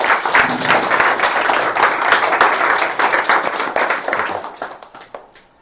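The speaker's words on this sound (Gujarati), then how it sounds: "જોરદાર તાળી પાડો ભાઈ" An audience at an Independence Day school speech competition claps loudly, a dense burst of applause that holds steady for several seconds and then tapers away to quiet.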